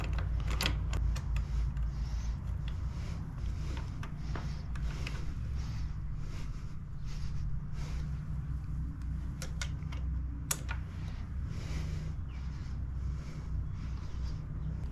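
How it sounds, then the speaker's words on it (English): An Allen key tightening bolts during assembly of an Ariel Rider Grizzly V2 e-bike, a run of small metallic clicks and ratcheting creaks, then intermittent turning and scraping over a steady low hum, close and moderately quiet with no talking. "then use your Allen to do the rest"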